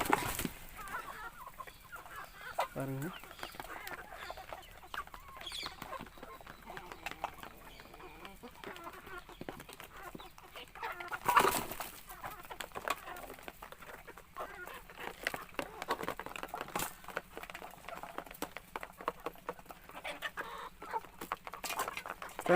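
Country chickens feeding from a tray cluck softly and intermittently over a long stretch, close by amid scratching and rustling, with a brief spoken word partway through.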